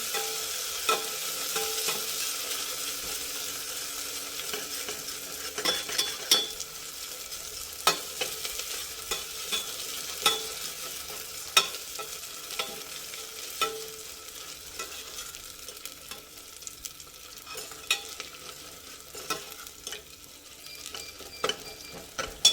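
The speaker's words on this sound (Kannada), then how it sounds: "ಶುಂಠಿ ಬೆಳ್ಳುಳ್ಳಿ ಪೇಸ್ಟ್ ಹಾಕಿದ್ದೀನಿ." Ginger garlic paste sizzles steadily in a hot pan for a fish curry, with repeated scraping clicks of a spoon stirring throughout, close and moderately loud, no voices.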